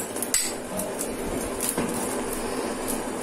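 A spoonful of ghee dropped into a frying pan of hot oil while cooking yellow lentils, giving a few light metallic clinks of spoon against pan over a steady low sizzle.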